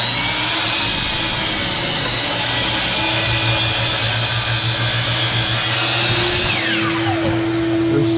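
12-inch DeWalt saw cutting through a wooden stair tread, a loud, sustained motor whine and buzzing cut running continuously, with the pitch sliding down as the blade spins down near the end.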